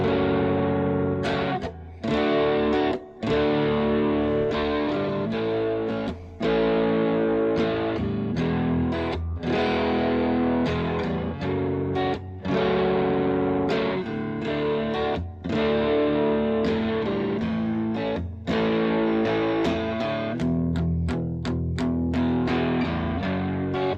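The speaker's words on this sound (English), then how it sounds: "So we're going to start off with a neck pickup, and this is the crunch channel." Electric guitar on its neck pickup through the crunch channel of a Yamaha THR32 amp plays a driven, distorted run of sustained chords and notes with short gaps, loud and close with no voices.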